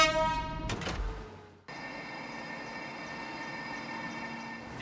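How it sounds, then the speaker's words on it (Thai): A heavy 1,859-ton freight train on the Laos-China railway out of Vientiane South, starting with a loud sustained horn blast that cuts off, followed by a steady rolling rumble of wagons passing. "รถไฟของพวกเขาในขบวนมื้อนี้ออกจากสถานีเวียงจันทน์ใต้เวลา 2:50 น."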